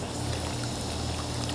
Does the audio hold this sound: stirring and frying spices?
no